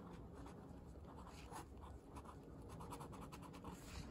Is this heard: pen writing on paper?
yes